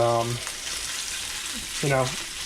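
Bacon and onion sizzling in a pan as they are stirred, a soft steady frying hiss beneath two short bursts of voiced talk.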